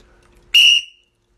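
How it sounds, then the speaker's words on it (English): A single sharp whistle blast cuts in after near silence, loud and shrill for about half a second, then stops abruptly. "Where's my whistle?"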